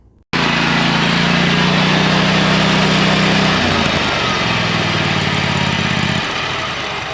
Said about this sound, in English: So I had to get the blower back out, hop on the mower, and run out back and get it cleaned off.